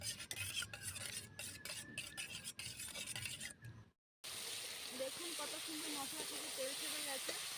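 A mixture with turmeric, chili powder and black pepper powder beaten briskly in a bowl, rapid rhythmic scraping and clicking for about four seconds, then a different hissing sizzle under a voice.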